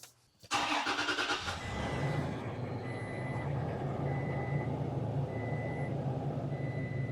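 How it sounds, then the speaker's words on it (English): A Toyota Tacoma truck engine cranks briefly and catches, then settles into a steady, close idle rumble with faint periodic beeping in the background. "we're going to start the vehicle"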